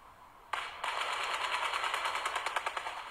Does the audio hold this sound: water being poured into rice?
no